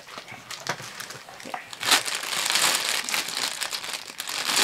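A dog plays with and crinkles something, producing crackly crumpling bursts throughout at close range, with faint background noise.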